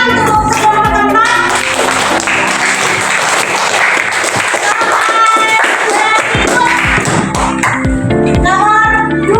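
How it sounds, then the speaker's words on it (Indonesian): Classmates in a school lesson on computer hardware clap for fellow students, a loud burst of dense, close clapping with some voices at the start and end. "tepuk tangan untuk teman-teman"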